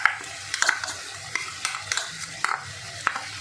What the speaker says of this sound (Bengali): দিয়ে এটাকে একটু কষিয়ে নেব